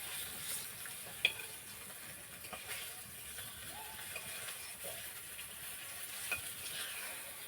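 Rohu fish frying in oil in a village kitchen, a faint, soft sizzle with scattered light clicks and a few sharper taps of utensils.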